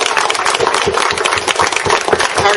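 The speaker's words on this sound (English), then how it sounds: "Round of applause, please." Wedding guests applaud the bride Emily and her bridesmaids, a loud, close, continuous burst of many hands clapping at once with no voices standing out.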